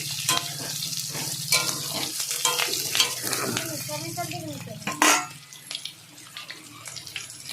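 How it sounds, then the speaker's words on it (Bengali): Pointed gourd pieces, already fried, sizzle and spit when they are added back to a spicy fish curry in a pan, with stirring clatter and bursts of hissing over a steady low hum nearby. "এবার তরকারিতে সেই ভাজা পটলগুলো সব ছেড়ে এটাকে আর একটু আমি ফ্রাই করে নেব 2-3 মিনিট"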